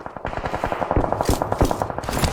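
Rapid machine-gun fire from a video game rattles in fast, sustained bursts, dense and fairly loud, with overlapping shots and sharper cracks throughout.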